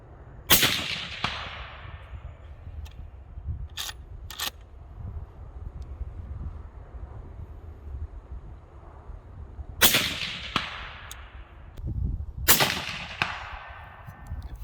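Rifle shots from a Henry Long Ranger Express fired outdoors at distant targets: a few loud, sharp cracks in two clusters with quieter spells between, heard near.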